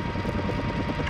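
A helicopter in the Call of Duty Modern Warfare video game keeps up a steady, low, rumbling rotor drone at a moderate distance, even and unbroken.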